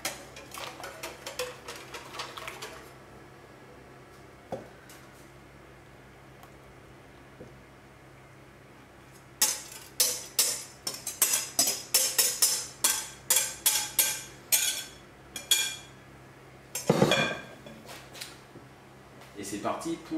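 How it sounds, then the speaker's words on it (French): Apricot clafoutis batter being mixed in a baking dish: after a quiet stretch, a run of quick, irregular clicks and taps of a utensil against the dish, fairly close, ending in a louder clattering burst. "Donc on mélange une dernière fois."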